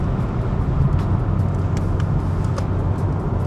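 Supercharged VW Corrado engine pulling hard on the road, a steady loud low drone of engine and road noise that stays dense and constant throughout, with no speech.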